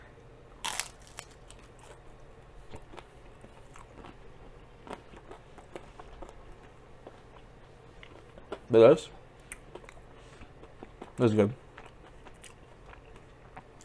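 Crunchy food chewed during a mukbang, with two loud close bursts of biting and crunching near the end and a faint earlier crunch, separated by quiet stretches as a person speaks briefly.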